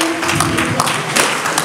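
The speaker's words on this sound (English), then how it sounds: "Clap your hands." A congregation claps together at a church pastoral installation service, a dense, steady patter of many hands that carries on for the whole moment at close range with a murmur of voices underneath.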